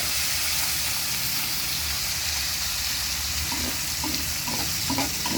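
Garlic, onion and tomato sizzling loudly in a hot pan, a steady crackling hiss with occasional scraping stirs toward the end.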